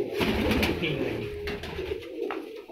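A blue racing pigeon coos close by, its low throaty rolls blending with other birds in a busy loft, and a voice briefly heard.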